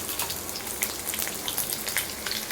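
Chopped onion for a ridge gourd chutney fries in a pan, giving a dense, even hiss of close sizzling with faint crackles throughout the short stretch.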